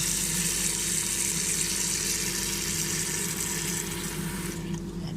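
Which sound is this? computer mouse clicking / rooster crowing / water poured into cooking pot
water poured into cooking pot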